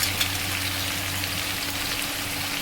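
Turmeric, cumin and coriander sizzle in hot oil, a close, steady hiss of frying that holds evenly throughout with no voices.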